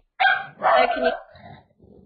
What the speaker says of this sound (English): Oh, doggy in the background.